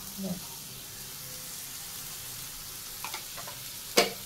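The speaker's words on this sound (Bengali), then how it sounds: "মাছটা একটু সিম করে দিলাম।" Fish curry simmering in a pan, a faint steady sizzle and bubbling heard close, broken by a few light clinks and a sharp utensil tap near the end.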